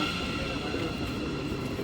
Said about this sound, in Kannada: ನೋಡಿ ಟ್ರೈನ್ ಬಂತು